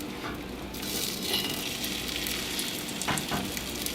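Cracked eggs seasoned with salt and pepper fry in a pan with a steady, dense sizzle and crackle. A few scraping stir sounds come through near the end, and nobody speaks.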